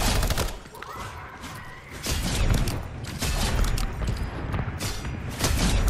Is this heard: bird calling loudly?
no